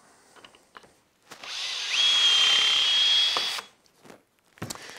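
A power drill bores into a bath vanity held in a jig, a single steady whine lasting about two seconds, close and loud, with quieter handling clatter before and after.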